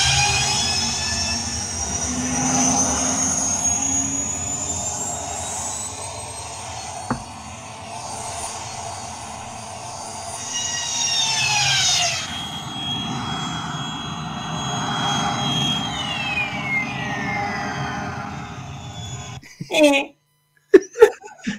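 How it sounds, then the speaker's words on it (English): Star Wars Landspeeder effect: a sustained, whooshing engine roar with high whining tones and slow sweeps, steady for about twenty seconds before cutting off into a few short sharp bursts. "Here is the sound of a Landspeeder."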